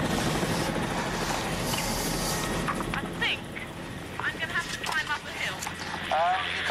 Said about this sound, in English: The helicopter's leaving me behind